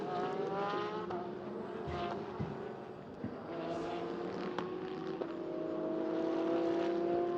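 Porsche race car in a sprint race, a sustained engine drone with shifting pitch as cars pass at moderate distance, under a commentator's continuous talk.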